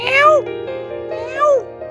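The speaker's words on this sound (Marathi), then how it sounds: "असा मोर आवाज काढत असतो" A peacock at Maharajbagh zoo in Nagpur gives two loud, close, wailing calls, each sweeping downward, about a second apart.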